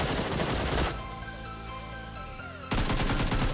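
Bursts of rapid gunfire in the PUBG Mobile battle game fill the start and end of the clip, loud and dense, with a quieter tonal in-game stretch between the volleys and no talk.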